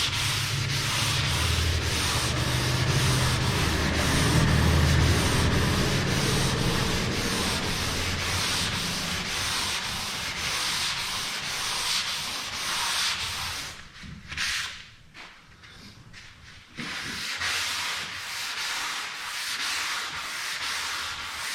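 Close, continuous rhythmic scraping of a sanding block rubbing over primer on Z28 car doors. The strokes are brisk and even, with a brief pause partway through before sanding resumes.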